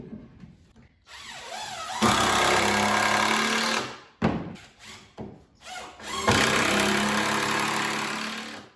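A power drill drives 3-inch screws into 2x4 boards in loud, close bursts, two long runs separated by short stuttering pulses as each screw seats.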